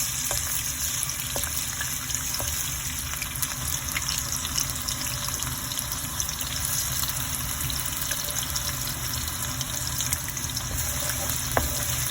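Onions frying in oil in a pan, a steady close sizzle and crackle running evenly throughout with scattered small pops and no talk.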